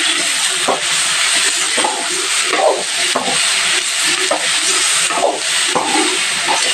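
Tomatoes and salt sauté in oil, producing a loud, constant sizzling hiss with faint clinks and stirring sounds underneath.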